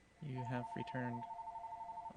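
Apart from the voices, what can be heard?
mobile phone ringing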